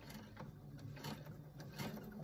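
A sewing machine back stitches a tote bag, its needle mechanism whirring in a steady rapid rhythm with a low motor hum, faint and close.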